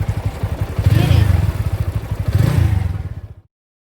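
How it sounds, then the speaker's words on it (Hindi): Motorcycle pulling away as the hand clutch is eased out with light throttle, a close, steady pulsing engine chug that swells twice, then cuts off abruptly. "मोटरसाइकिल को मैं यहाँ से हल्का हल्का हैंड क्लच छोड़ूंगी और हल्का हल्का रेस दूंगी"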